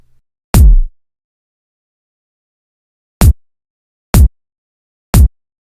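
An Epic Electro kit kick drum from Logic Pro X Ultrabeat, one booming hit followed by three short, punchy hits in an even rhythm, loud and alone against silence.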